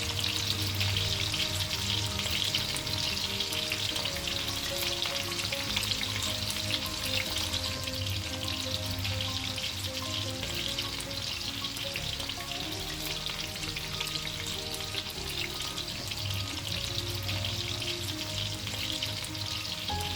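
Potatoes for aloor dum frying in a pan, a steady, loud, continuous sizzle with faint stirring movement throughout, no talking.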